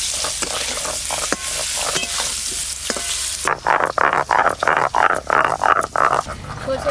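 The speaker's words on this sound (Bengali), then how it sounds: "এবার সেদ্ধ করে রাখা শোলা কচুগুলোও ভেজে নেব।" Boiled shola kochu (taro) pieces fry in a pan with a dense, loud sizzle at first, then turn into a series of rhythmic scraping stirs, each stroke pulsing through the crackling oil.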